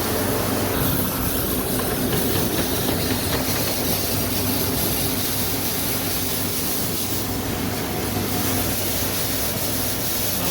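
A seed wheat cleaning machine and grain elevator running together make a dense, steady mechanical roar with a constant hum and rattling grain flow, loud and unbroken throughout with no voices.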